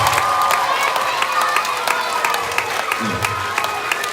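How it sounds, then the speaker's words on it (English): A school crowd cheers and applauds for two retiring teachers at a senior salute event; dense clapping and shouting fill the room continuously, loud and close, with a brief low voice rising near the end. "So let's give a cheer for them."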